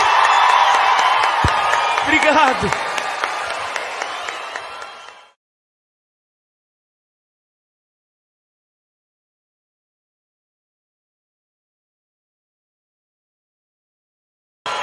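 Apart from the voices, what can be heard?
concert audience cheering and applauding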